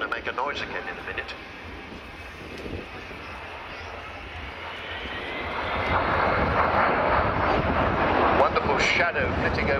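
Avro Vulcan XH558 delta-wing bomber jet engines roar at an air display at RIAT Fairford, a distant rumble swelling louder toward the end with wind buffeting the microphone and voices talking over it.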